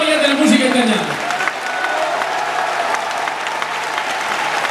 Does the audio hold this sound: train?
no